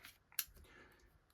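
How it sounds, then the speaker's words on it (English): A single sharp snip of small scissors from a first aid kit, one brief close cut followed by faint handling, no talk. "Sharp scissors, really useful, cutting up the Leukotape or whatnot."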